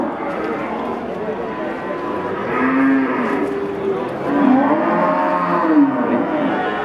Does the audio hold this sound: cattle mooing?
yes